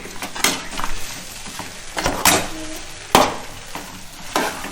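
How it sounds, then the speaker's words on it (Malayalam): Fried chicken and onions are stirred together in a pan. Brisk scraping and clanking strokes sound close over a light sizzle, with a few sharper knocks and no speech. "എന്നിട്ട് നമ്മളൊന്ന് നന്നായിട്ട് തന്നെ ഇളക്കി മിക്സ് ചെയ്ത് കൊടുക്കണം."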